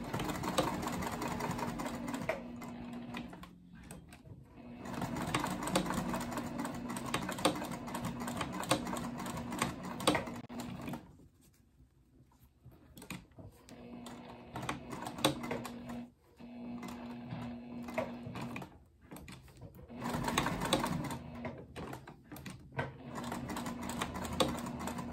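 A sewing machine stitching along the top of a fabric backpack, close rapid mechanical chatter running in long bursts with short pauses between runs.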